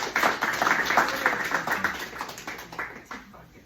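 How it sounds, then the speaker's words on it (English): An audience at a senior center claps together on cue, a lively burst of many hands applauding close by for several seconds, tapering slightly toward the end. "You clapped right on cue"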